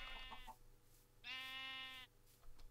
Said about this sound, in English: Shut up, sheep. You're annoying.